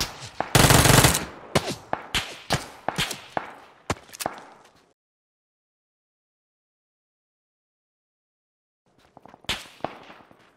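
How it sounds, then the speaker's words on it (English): Automatic gunfire from an Uzi in the PUBG video game: a loud close burst followed by a string of separate sharp shots, a few seconds of silence, then another fainter cluster of rapid shots. "Someone else shooting at me instantly."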